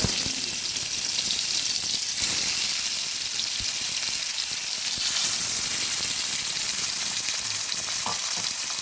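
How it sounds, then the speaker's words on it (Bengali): Fish fries in hot mustard oil in a heated wok, a close, continuous crackling sizzle with occasional sharper pops and no voices. "এবার মাছগুলো ভেজে নেব কড়াইটা গরম করে এবার দিয়ে দিলাম কিছুটা সর্ষের তেল"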